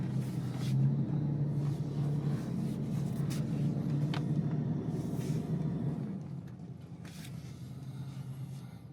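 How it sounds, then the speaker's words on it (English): A car rolls up to park in front of other vehicles, giving a steady low engine rumble that eases slightly near the end, fairly close and with no talk. "I will go ahead and park in front of my other vehicles."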